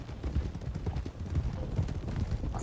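Horse hooves clip-clop steadily in Red Dead Redemption II roleplay, a brisk even rhythm of close, moderately loud steps with no one speaking.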